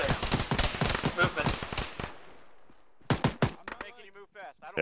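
Gunfire in the ArmA video game on a beach during a retreat: dense, rapid bursts of shots for about two seconds, a brief lull, then more sharp reports mixed with voices talking.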